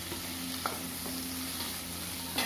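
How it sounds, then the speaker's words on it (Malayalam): Chopped tomato and green chili go into a sizzling pan for a jackfruit curry, a soft continuous fry with a few faint clinks and a brief louder splash near the end, no voices. "ഇനി നമുക്ക് ഇതിലേക്ക് ഈ തക്കാളി, പച്ചമുളക് അരിഞ്ഞത് ഒന്ന് ഇട്ട് കൊടുക്കാം."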